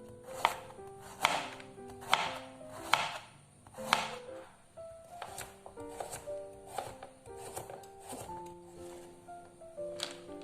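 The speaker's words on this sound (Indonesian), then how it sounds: "kemudian dipotong-potong bulat-bulat gitu aja Bun" A vegetable washed with its skin on is chopped into rounds, making a string of crisp, evenly spaced knife thuds on a cutting board at close range, with faint kitchen noise between strokes.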